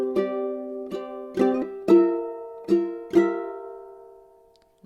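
Six up-and-down ukulele strums of chords from a One Piece song come in a loose rhythm, close and bright, each chord ringing before the final one fades out.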